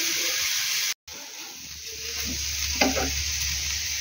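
Chili mixture frying in a pan, a steady close sizzling hiss that runs throughout, broken by a brief silent gap near the start and a faint clink or stir toward the end.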